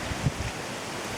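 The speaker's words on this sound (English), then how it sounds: "Sorry about the wind, it's a bit windy" Wind buffets the microphone in a steady, rough rush at a rainy hilltop building site, with a brief low thump near the start.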